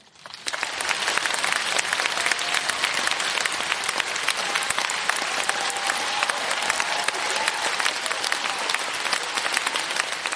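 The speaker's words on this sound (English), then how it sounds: "Please give him a warm round of applause." Sustained audience applause at a fan convention stage welcome for Marvel Studios head Kevin Feige, a dense steady wash of clapping that holds at even loudness for the full length without any talk.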